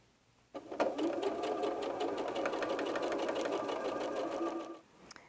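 A sewing machine chain-pieces pairs of quilt fabric in one steady, fast stitching run of about four seconds. It is close and moderately loud and stops cleanly at the end.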